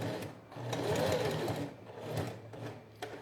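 A sewing machine runs steadily, stitching along the edge of a label at stitch length 2.5 for a plastic zip pouch, with a continuous close whirring rhythm and a brief pause near the end.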